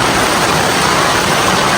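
A loud, dense roar of heavy rain pours down steadily and continuously, close by, with no breaks, on a mountain hike to Linantao Peak.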